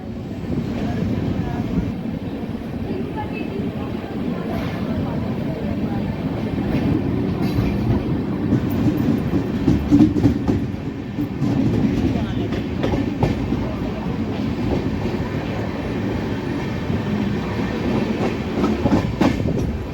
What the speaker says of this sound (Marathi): लोणावळा जंक्शनवरून आपली ट्रेन निघालेली आहे